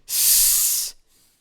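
A voice imitates a loud, sharp hiss lasting under a second, like escaping gas, then a faint fading tail.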